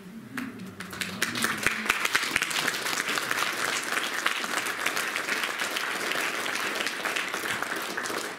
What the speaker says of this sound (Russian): Давайте еще раз похлопаем.